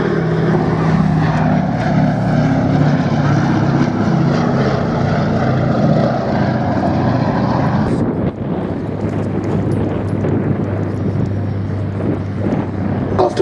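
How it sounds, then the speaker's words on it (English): Sally B, a B-17 bomber, makes a smoke-on flypast at the Duxford Battle of Britain Air Show 2021, its loud propeller engine drone close and steady, fading after a sudden shift partway through. "this pass with smoke on, simulating 2 damaged engines"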